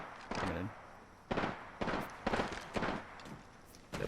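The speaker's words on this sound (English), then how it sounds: "Opening fire." Video game gunfire in a battle-royale match, heard as several separate loud bursts of shots, close and punchy, with brief pauses between volleys.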